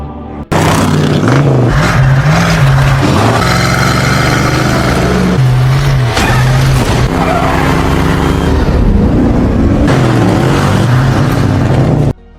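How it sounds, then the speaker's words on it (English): Car accelerating hard with a loud, sustained engine roar and rapid pitch swings suggesting gear changes and revving, cutting in abruptly and ending suddenly, with no talk. "so Brian hit the gas again"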